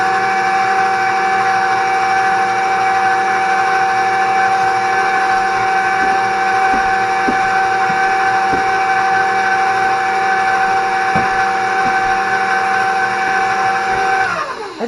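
A stand mixer beats chocolate cake batter with a steady, loud motor whine and hum that holds constant for about fourteen seconds, with faint ticking from the beater before it winds down at the end.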